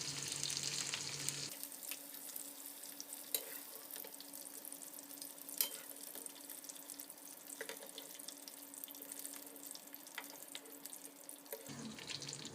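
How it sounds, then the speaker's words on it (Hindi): Cauliflower florets fry in oil in a pan with a faint, steady bubbling sizzle. Brief clatters of stirring come through, and a louder burst of noise opens and closes the stretch. "देखें अब हम गोभी फ्राई कर रहे हैं"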